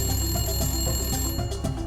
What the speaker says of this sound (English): Pick it up. Pick it up already. Keeps ringing.